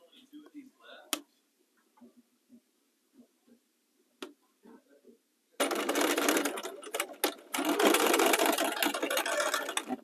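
Sewing machine stitching along a skirt hem, faint ticks and pauses at first, then a loud continuous mechanical chatter of rapid stitching running for several seconds with a brief break, close by, with someone talking early on.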